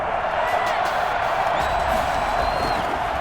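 A broad, steady roar of a stadium crowd cheering after a big play in Madden 21, a continuous wash of noise with no individual voices standing out.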